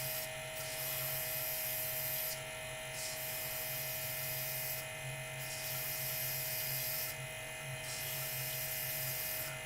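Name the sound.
spraying colour onto a woodturning piece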